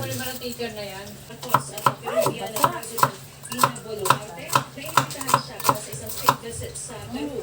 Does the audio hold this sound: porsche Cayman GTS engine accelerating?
no